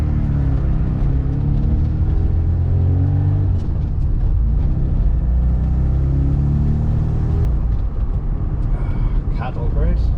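A 1982 Ford Escort XR3 in need of a new exhaust is heard from inside while driving, its engine a steady low rumble and drone with rising and falling tones as it pulls along.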